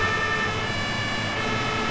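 A toy fire truck gives off a steady electronic siren wail, loud and constant over a dense buzzing hiss, with no voices.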